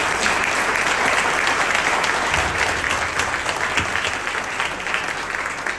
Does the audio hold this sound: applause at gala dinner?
yes